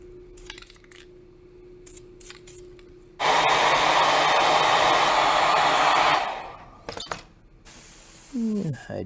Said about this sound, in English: you know what I've got in this airbrush? Some gunmetal gray.